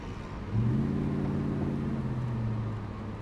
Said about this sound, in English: Just a nice, smooth running car.